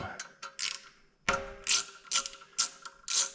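A ratchet clicks in short, close bursts while cracking loose the transmission filter bolts on a C8 Corvette's DCT, with quick pawl ticks separated by brief pauses.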